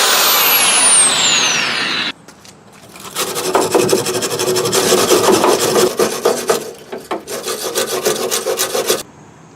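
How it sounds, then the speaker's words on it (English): The edge of a steel rod is sanded by hand with loud, close, rhythmic rasping strokes, a steady grinding rub that surges with each pass and stops abruptly at the end. "So I've sanded down the edge, and now this will go right in here."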